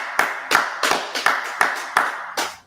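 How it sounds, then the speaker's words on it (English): Seven crisp hand claps land close and loud in a steady, even rhythm, each sharp and clearly separated, with no talk over them. "Let's clap it up. Let's clap it up."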